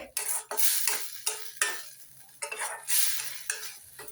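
A spicy butter catfish curry with a little sugar added is stirred in a pan, with repeated scraping strokes against the metal over a soft sizzle, loud and close, with no voices.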